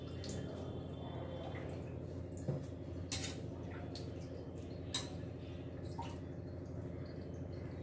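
Arai keerai greens being washed, with faint water drips and a few soft clinks scattered over a low, steady background hum; no one speaks.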